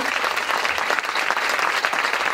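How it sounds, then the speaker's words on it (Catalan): An audience applauds at an official reception in Vilafant honouring a cadet basketball team and a taekwondo athlete, a loud, dense and continuous burst of clapping with no pauses. "un fort aplaudiment per tu"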